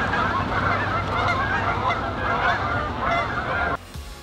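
A flock of geese honks continuously and loudly outdoors, overlapping calls forming a dense steady chorus that cuts off abruptly near the end.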